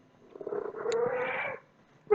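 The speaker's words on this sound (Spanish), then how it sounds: "Ahí es mi gato que va a saltar." A house cat gives a drawn-out, low, moaning vocalization lasting about a second, close and moderately quiet in an indoor room, with no talk over it.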